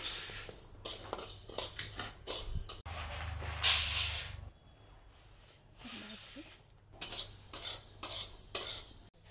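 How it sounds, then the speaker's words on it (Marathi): Jowar sorghum grain is dry-roasted in a pan, with a spoon stirring and scraping the grain in repeated gritty strokes. A louder hissing rush breaks in midway, then the stirring resumes, close and fairly quiet. "तर सर्वात पहिल्यांदा आपण ज्वारी टाकू."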